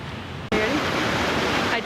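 Arch Falls waterfall, where the water runs under a rock arch: a loud, steady broadband rush of falling water that starts abruptly after a brief quieter moment and continues without a break.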